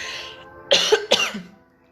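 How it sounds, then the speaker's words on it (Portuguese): Two sharp coughs close up, one after another, following a brief breathy sound. "Eu vou tossir aqui, gente."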